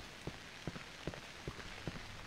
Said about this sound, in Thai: โอ้ฝนตกด้วย